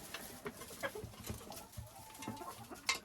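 Backyard hens peck and cluck softly in short scattered bursts, faint and close, with a few brief higher calls among them.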